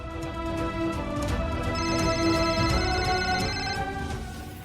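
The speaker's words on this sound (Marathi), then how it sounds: "जगन्नाथजींचा फोन आहे." A phone rings indoors in a Marathi TV drama scene, a steady electronic ringtone of layered tones sounding continuously and fairly loud with no speech over it.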